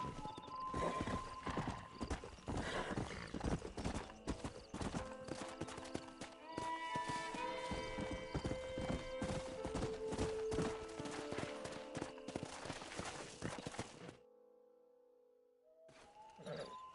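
Horses in the Red Dead Redemption video game clip-clop steadily along, with a few neighs and whinnies mixed in over a dense game soundscape, before a brief lull near the end.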